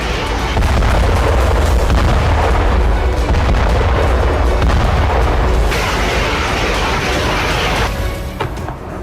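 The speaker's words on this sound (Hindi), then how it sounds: "ज़ेलेंस्की ने ऑर्डर दिया तो यूक्रेनी फोर्स ने भीषण बमबारी शुरू कर दी।" Ukrainian forces' artillery shelling in news footage, a dense, continuous rumble of heavy booms and low-frequency blasts running loud throughout with no speech.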